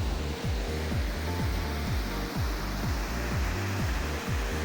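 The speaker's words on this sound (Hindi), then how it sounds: "ठंडा पानी, बहती हवा और झरने की आवाज़" Steady, dense rushing waterfall fills the scene, a constant roar with a low rumbling undertone and no voices.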